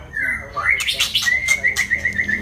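An oriental magpie-robin gives sharp, rapid repeated notes mimicking a woodpecker's call, close and bright, rising into a fast chattering series.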